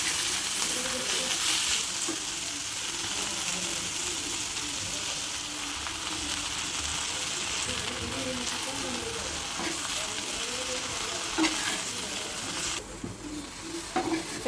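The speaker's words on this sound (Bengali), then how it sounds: "অল্প অল্প করে শাকগুলো দিয়ে নাড়াচাড়া দিয়ে নিব।" Jute leaves are stir-fried in a pan for a simple home lunch, with a continuous loud sizzle and the scrape and clatter of a spatula stirring throughout, and no voices.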